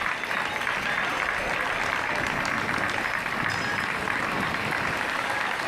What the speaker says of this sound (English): And a round of applause from the Spanish delegation as well.